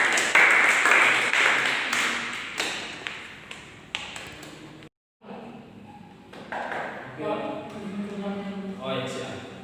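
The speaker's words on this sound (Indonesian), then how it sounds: "Kita beri tepuk tangan untuk kelompok 2." A classroom of students applauds a presentation group, a burst of clapping that starts loud and fades over several seconds, followed by a brief pause and then a teacher speaking.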